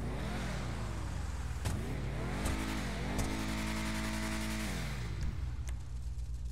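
A Bravado Hotring Hellfire in GTA 5, fitted with a new turbo, revs its engine repeatedly, the pitch climbing and dropping in several loud, close surges over a steady rumble.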